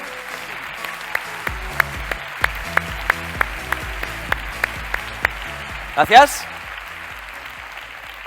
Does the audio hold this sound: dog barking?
no